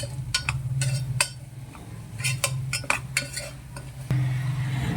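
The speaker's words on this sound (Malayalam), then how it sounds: "ഇതെല്ലാം കൂടി നമുക്ക് നന്നായിട്ടൊന്ന് മിക്സ് ചെയ്തെടുക്കാം" A spoon scrapes and clinks against a pan while spices with garam masala are stirred, giving irregular metallic taps over a low hum from the stove.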